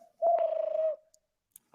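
A person imitates pigeon cooing with a single sustained, wavering low coo, close and fairly loud, followed by brief faint noises and a short voiced sound at the end.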